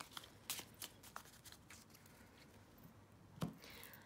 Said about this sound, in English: All right, cards are shuffled.